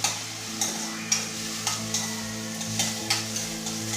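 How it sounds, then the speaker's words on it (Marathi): Onion sautéing in oil in a pan until golden, a continuous sizzle broken by regular scraping strokes of a spatula roughly every half second, close and moderately loud. "आता कांदा आपल्याला छान परतून घ्यायचा आहे, गोल्डन रंग येईपर्यंत व्यवस्थित तो असा परतून घेतला पाहिजे"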